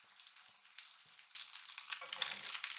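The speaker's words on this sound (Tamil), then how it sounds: "திருப்பி போட்டதுக்கு அப்புறமா இந்த சைடும் ஒரு 2 நிமிஷம் நல்லா வேகட்டும்." Fish mince patties sizzle in a pan just after being flipped, a soft steady frying hiss that grows louder and busier in the second half, with no voices.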